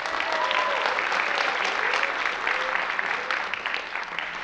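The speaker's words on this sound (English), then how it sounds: "Let's give another round of applause for Ensemble" Audience applause for a choir ensemble at a high school spring choir concert, a dense, steady wash of many hands clapping in a hall, continuous and fairly loud throughout with no talking.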